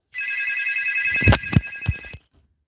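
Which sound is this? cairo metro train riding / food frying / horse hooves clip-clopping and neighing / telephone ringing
telephone ringing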